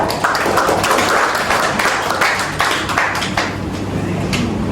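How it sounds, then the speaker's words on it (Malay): Classmates in a classroom applaud together, a dense burst of clapping that holds steady for a few seconds, close and fairly loud, then eases slightly toward the end. "Okey, beri tepukan"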